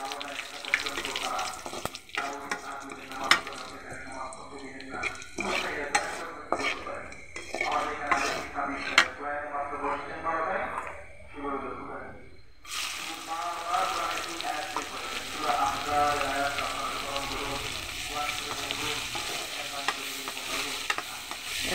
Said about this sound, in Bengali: তেলটা গরম হয়ে গেছে, আমি এখন ফোড়নে তেজপাতা এবং কিছুটা জিরে দিয়ে দিলাম।